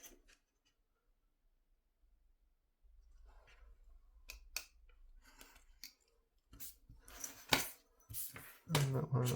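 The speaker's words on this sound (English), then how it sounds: "I cut them all out of the vellum." Scissors snip through a sheet of vellum in a series of short, crisp cuts near and fairly quiet, with rustling paper handling between them and no talking.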